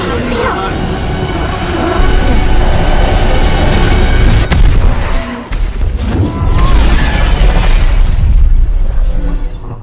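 A huge explosion from the animated film Spider-Man: Into the Spider-Verse as a building cracks apart, giving loud, sustained rumbling booms and shattering debris for nearly ten seconds, with a brief dip midway before the roar resumes.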